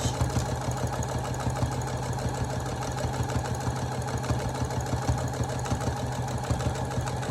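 A sewing machine stitches fabric for a burrito pillowcase, a steady fast mechanical whir with rapid rhythmic ticking, heard alone at moderate volume.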